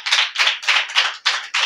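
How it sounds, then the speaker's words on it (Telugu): A congregation at a Telugu Christian sermon claps in unison, six firm, evenly spaced claps in a quick steady rhythm, close and clear with no talking. "చప్పట్లు కొట్టండి ఒకసారి"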